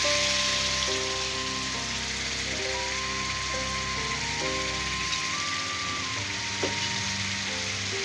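Beaten egg is poured into a hot frying pan and sizzles in a steady, hissing wash, partly covered by tuneful background music.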